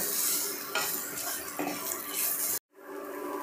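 Mashed boiled potato being stirred into capsicum and spices in a pan for a spicy veg sandwich filling, with soft scraping and clinking of a spoon against the pan over a gentle sizzle, cut off by a brief silence near the end.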